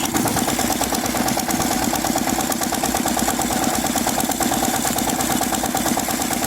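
The motor of a motorized pesticide sprayer tank runs steadily nearby, a loud, even, vibrating drone with a rapid pulsing rattle and no pauses.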